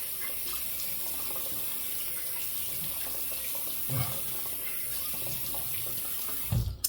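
Hot tap water runs steadily into a sink to wet the face before a shave, a continuous rushing splash with a few brief louder bumps.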